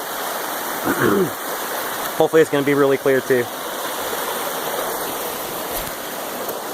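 A creek flows through an open creek bed in Dolly Sods, eastern West Virginia, making a steady, close rushing wash throughout while someone speaks briefly over it.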